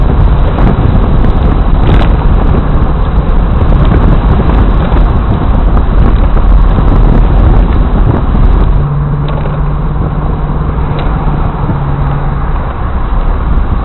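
Loud, continuous wind roars past the open targa top of a C4 Corvette on the move, mixed with engine and road rumble; a steady hum rises in the later part.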